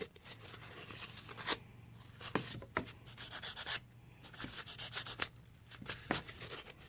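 A knife scrapes away from the body to roughen the surface of dollhouse basement material, giving quiet, irregular rasping strokes in short bursts, close up, with no talking.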